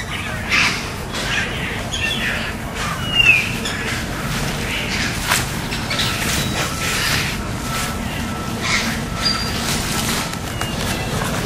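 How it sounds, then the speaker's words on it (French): Wild birds sing outdoors, with scattered faint chirps and tweets rising over a steady, breezy background hiss; no talking is heard. "Vous voyez, vous entendez ce chant d'oiseaux."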